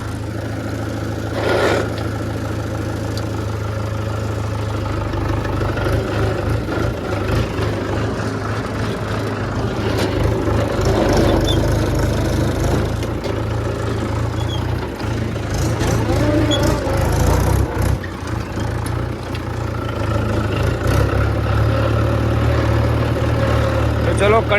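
Diesel tractor engine running while ploughing a field with a cultivator attached, a loud, continuous low rumble that holds steady and swells slightly at times, with a few louder knocks and clanks over it.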